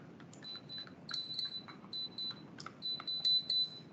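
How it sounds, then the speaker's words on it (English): Several police body cameras at a community oversight board meeting emit short high-pitched double beeps when their event buttons are pressed, scattered and overlapping, quiet against faint room murmur. "Everybody else pressed it and got a double beep, right?"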